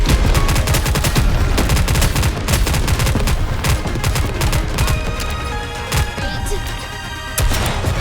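Rapid bursts of gunfire from the video game NIKKE: Goddess of Victory, dense overlapping shots in quick volleys with sharp cracks and brief pauses, loud and close throughout.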